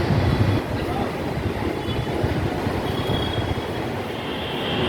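A metro train in Noida-Gurgaon service rumbles steadily along with continuous wheel noise and faint squeal, heard from inside the carriage, loud and unbroken throughout.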